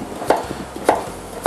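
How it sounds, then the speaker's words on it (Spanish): A knife chopping squash on a cutting board, three sharp, evenly spaced thuds close up and loud, with no voices. "Seguimos picando."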